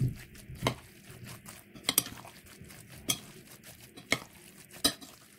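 A utensil stirs a msemen filling of eggs and ras el hanout in a bowl, giving soft, scattered clinks and scrapes at irregular intervals over a quiet background.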